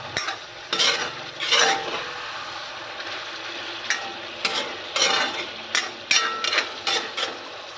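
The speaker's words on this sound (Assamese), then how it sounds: "এফালে মাংসখিনি এবাৰ লৰাই দিওঁগৈ।" Local chicken meat curry is stirred in a pan with a spoon, giving close, repeated scraping clatters and knocks at an uneven rhythm over a faint background sizzle, with no talk.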